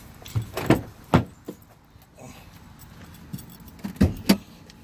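Inside a 2015 Ford Taurus SHO, a few sharp clicks and thumps sound up close as the hood release is worked, with quiet rattling handling noise between them.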